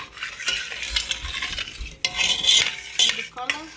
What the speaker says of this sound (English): After 2 minutes, add the rice and stir.